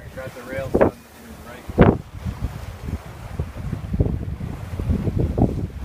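Wind gusts buffet the microphone aboard a sailboat under sail, a steady roar with louder bursts, while people talk nearby.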